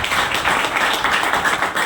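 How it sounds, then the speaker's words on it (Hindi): An audience at a motivational business talk breaks into sustained applause, dense rapid clapping that holds steady and fairly loud throughout. "एक बार उनके लिए भी जबरदस्त ताली"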